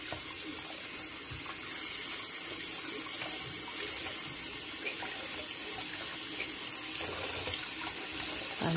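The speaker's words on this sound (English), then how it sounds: "I'm just cleaning out these sponges." A kitchen tap runs steadily into a sink while sponges are rinsed under it, a loud, continuous close splashing hiss with no talk.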